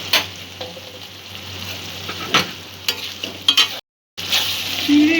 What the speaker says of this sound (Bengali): চিংড়ির গ্রেভিটা আমি মিনিট 2-3 ফুটিয়ে নিয়েছি